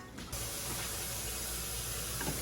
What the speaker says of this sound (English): now I'm pouring in that chicken fat or chicken juice